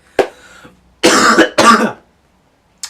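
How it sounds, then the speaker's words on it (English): Several harsh coughs: one sharp cough, then two heavier bursts close together, loud and near, with a faint click at the end. "the cough is still here"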